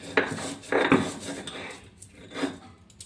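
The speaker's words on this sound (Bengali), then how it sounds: "এখন আমি চোকলাগুলো বেটে নিচ্ছি।" Raw green banana peels being ground into a paste on a stone, giving several scraping, rubbing strokes in uneven bursts that are close by and moderately loud, with no talk.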